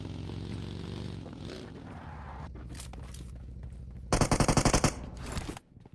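A burst of rapid automatic gunfire from a video game gun, a sharp rattling string of shots lasting under a second amid quieter game ambience, followed by a few softer trailing shots.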